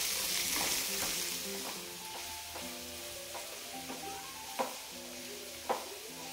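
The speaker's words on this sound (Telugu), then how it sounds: "ఇందులో శనగపప్పు, పచ్చిమిర్చి, జీలకర్ర, కొత్తిమీర, దోసకాయ ముక్కలు వేసేసి ఫ్రై చేసుకోవడమే" Chana dal, green chillies, cumin, coriander and cucumber pieces fry in a pan for a cucumber chutney, a steady sizzle broken by a few sharp stirring clacks of a spoon against the pan near the end.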